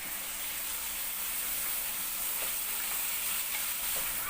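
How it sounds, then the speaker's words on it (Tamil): Chopped tomatoes and pandan leaves sautéing in oil for fish biryani give a steady, soft sizzle with faint stirring scrapes throughout, close but quiet, with no voices. "தக்காளி நல்லா சாஃப்டாக ஆற வரைக்கும் இதை நல்லா வதக்கிக்கலாம்."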